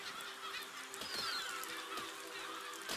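Birds honk and squawk in quick, scattered bursts in the game Besiege, faint with no voices.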